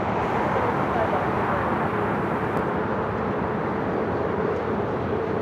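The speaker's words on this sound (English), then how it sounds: "Just had that China Cargo King 777 freighter touching down 25 left." A China Cargo Boeing 777 freighter touching down on runway 25L at Los Angeles airport: a steady, broad roar of jet engines and rushing air, holding constant and fairly loud throughout with no distinct breaks.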